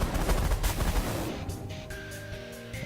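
Spaceship gunfire in the space strategy game The Last Federation comes as a dense, loud barrage of rapid shots for about a second, then gives way to a fading tonal hum.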